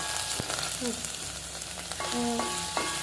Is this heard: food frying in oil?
yes